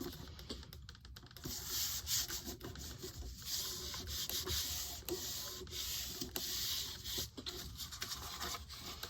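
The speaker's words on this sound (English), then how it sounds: "Rub it down a little bit in here to hold it in place." Glued paper is rubbed down onto a hard sketchbook cover, a close, continuous dry rubbing and scraping with a few taps and no talk.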